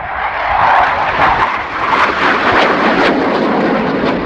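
A military jet flying a sustained maximum-performance turn at the RIAT 2019 airshow, its engine a loud, continuous broadband roar that swells and wavers slightly as it circles overhead, with no voices.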